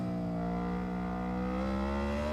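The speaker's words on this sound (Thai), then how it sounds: "ปึ๊บเปิดเครื่องเร่งนะครับ เสียง V4 ปาพิเลียนะครับ" An Aprilia V4 motorcycle engine in the video game RIDE 4 revs with a steady, rising drone, its pitch climbing gradually as the throttle opens, loud and continuous.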